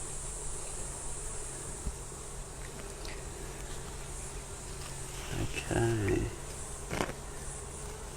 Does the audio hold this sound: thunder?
no